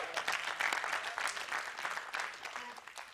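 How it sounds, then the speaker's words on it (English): Audience applause at a church gathering, a steady wash of clapping lasting the whole moment at moderate level, fairly distant and roomy, with faint voices mixed underneath. "somebody give me a clap here"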